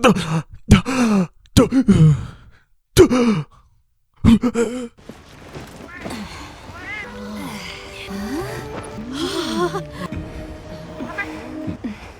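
Short bursts of grunts, sighs and exclamations from a Monster Hunter Wilds character, separated by pauses, then giving way to melodic game music and ambient sound.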